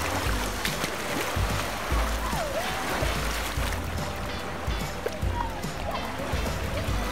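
Sea waves wash and splash continuously near the shore where a small child plays in the water, a steady noisy surge with a few faint high voices mixed in.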